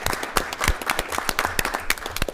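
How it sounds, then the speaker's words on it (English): A council meeting audience gives a YWCA-sponsored troop 307 a brisk burst of applause, sharp close claps overlapping in a steady, lively rhythm throughout. "I think we need to give these folks a round of applause."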